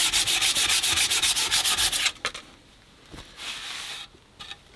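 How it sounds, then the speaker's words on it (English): Sandpaper rubbing back and forth on the wood of an old broken kicksled, a rapid rhythmic scratchy rasp for two seconds, then a few scattered lighter scuffs and taps, close and loud with no talk. "Let's give this a sand."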